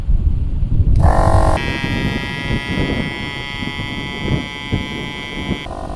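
An ALL-TOP portable air compressor filling a tire: a loud, steady mechanical buzzing drone kicks in after a second and runs for several seconds over a rumbling motor, then cuts off near the end.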